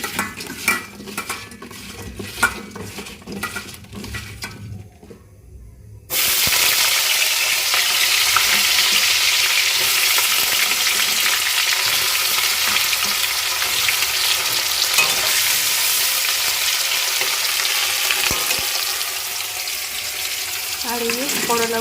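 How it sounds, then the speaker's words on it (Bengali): Loud, steady sizzle of salted banana pieces frying in hot oil, starting abruptly after a few seconds of clinking utensils and continuing with occasional stirring and scraping. "তেল গরম হয়ে গেছে বন্ধুরা, এবারে রান্না শুরু করতে হবে।"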